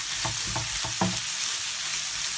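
Chicken noodles, fried chicken pieces mixed in, get stirred around a hot pan, giving a steady sizzle with about four distinct scraping stir strokes in the first second, then continuous frying hiss with no talking.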